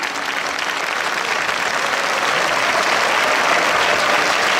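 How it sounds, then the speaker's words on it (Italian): A town-square crowd at a festival applauds for earthquake victims, a dense, steady clapping that fills the whole stretch and rises slightly toward the end, with no talking over it. "Un minuto di applauso per tutte le persone scomparse nel terremoto di 2 anni fa."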